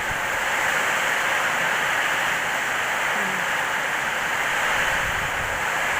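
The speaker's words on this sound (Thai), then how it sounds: "ลมจะกระโชกแรงมาเป็นช่วงๆครับ" Strong wind gusts through rain beside a house with palmyra palms nearby. The sound is a loud, steady, broad roaring rush that lasts throughout, with no voices.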